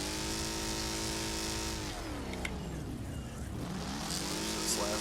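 Racing car engines in the demolition derby game Wreckfest roar continuously, several revving and shifting pitch as cars accelerate and pass, with harmonic engine drones sweeping down and back up over a steady loud bed.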